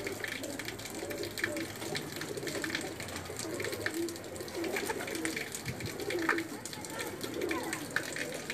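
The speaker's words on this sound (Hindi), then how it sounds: "ये 10 नंबर कबूतर हैं।" Pigeons kept by a breeder coo softly in a loft, low burbling calls repeating over a steady background hiss with faint watery sounds, moderately distant.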